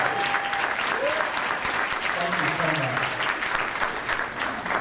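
A corporate event crowd in Clinton, Maryland applauds military and public service veterans with loud, sustained clapping and some cheering throughout, while a speaker briefly talks over it.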